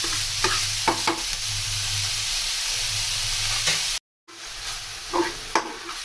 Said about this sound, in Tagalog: So, ilagay na natin yung ating minced pork.